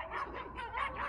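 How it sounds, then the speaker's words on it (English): Standard poodles in Sun Valley, Idaho bark back and forth at each other, with close, overlapping barks and yips that run continuously through a short burst. "They just bark at each other."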